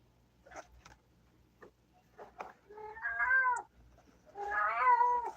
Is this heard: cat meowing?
yes